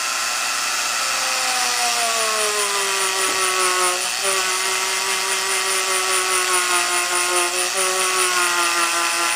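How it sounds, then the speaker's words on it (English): Sears Dremel rotary tool fitted with a wire brush, scrubbing carbon off the clogged spark arrestor screen of a Stihl BG 86 leaf blower, a steady high whine close by that shifts pitch slightly as it bears against the metal. "what I'm going to use here is a Dremel. It's by Sears. I have a wire brush attached to it."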